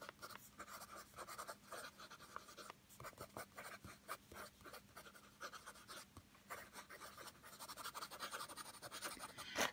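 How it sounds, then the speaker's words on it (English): Waterman Hemisphere fountain pen with a fine nib writing on paper, giving soft, close scratchy strokes in an irregular rhythm with brief pauses, quiet and alone. "So it does write really smoothly. This is a fine nib, by the way."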